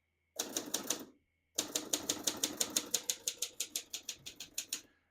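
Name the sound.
typing on a 1957 Triumph Perfekt portable typewriter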